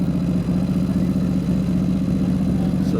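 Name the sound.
Buell motorcycle engine at the race start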